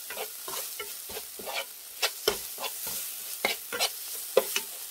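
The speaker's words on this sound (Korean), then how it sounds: "이렇게 볶아주세요" Dried shredded squid tossed with gochujang in a hot pan, a run of scraping stir strokes and light crackling sizzle in uneven bursts, close and fairly quiet, with no talking.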